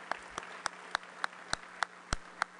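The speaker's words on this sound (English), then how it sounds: "Let's give them all a round of applause." A Rotary Club of Denver meeting audience gives a round of applause. The claps are sparse and evenly spaced, a few hands heard distinctly over a quiet room hum.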